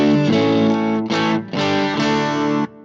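An electric guitar through a Tweed amp model with a clean-to-slightly-hairy edge, strumming three sustained chords with short breaks between them, full and close, then cutting to silence.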